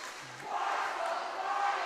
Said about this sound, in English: getting some nice cheer from their student section